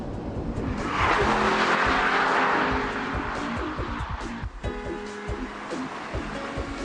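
A Porsche 997 engine revs hard and loud, rising to a strong sustained roar and then settling into a steady, throbbing drone with clear engine harmonics, heard without any talking.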